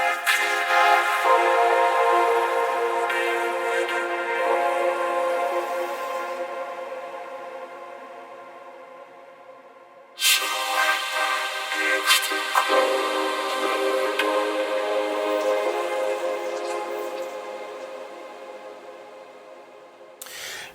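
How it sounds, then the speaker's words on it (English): A classic vocoder layer played solo from a music production, giving a buzzy, harmonically dense synthetic voice that sustains for about ten seconds, cuts off briefly, then returns with a bright attack and holds steadily to the end. "I added one more layer, which is something I very rarely do, and that is the vocoder."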